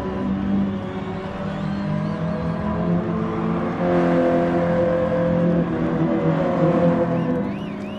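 A 2022 Toyota GR86 driving hard on a race track, its engine droning steadily, then climbing louder as it accelerates through the last section of the course near a chicane.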